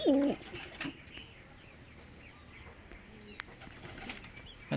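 Racing pigeons in a loft give soft, faint coos, with bursts of wing flapping at the start and again at the end over a quiet, low background.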